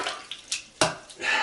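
A porcelain toilet bowl being flushed after a cleaning, with close bursts of rushing, splashing water that surge, dip and surge again across a short stretch.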